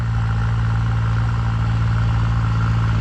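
A modified 3630 tractor's engine labours under full load in a dry field, a steady, loud, deep drone with a low rumbling throb that holds unbroken throughout, with no voices.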